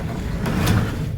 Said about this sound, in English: this door is broken, needs to be oiled something because it's not good